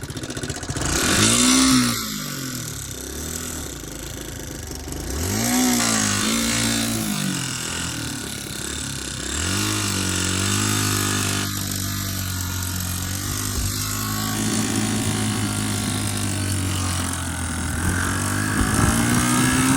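A dirt bike engine sputters to life with a few revving bursts, then settles into a loud, steady, rough idle that carries on close by, with no talking.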